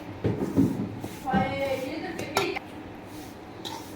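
Homemade garam masala spices stirred in a pan, with scraping and light metallic clinks of a utensil against the pan, heard close while a person talks over it.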